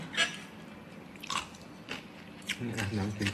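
Someone bites and chews a crunchy, spicy crab dish up close, with several crisp crunches spread across the moment and a voice speaking near the end.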